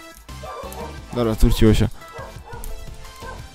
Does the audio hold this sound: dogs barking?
yes